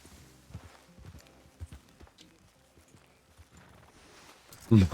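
Horse hooves in Red Dead Redemption 2: soft, irregular clopping steps at a walking pace, fairly quiet, ending in a louder, closer burst of noise.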